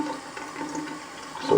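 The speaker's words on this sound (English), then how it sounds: "fill this sink up with water" Tap water running into a bathroom sink to fill it, a steady close splashing rush that swells louder near the end.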